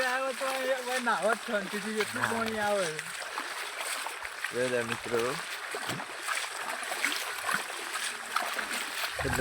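Rainwater runs and splashes along a road after heavy rain, a continuous rushing flow heard close by, with a person talking over it at the start and midway.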